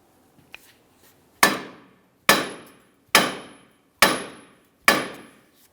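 Five evenly spaced, loud metallic hammer blows strike the steering knuckle of a 2006-2012 Ford Fusion to jar it loose from the lower ball joint, each ringing hit decaying quickly, with a few faint clicks before the first.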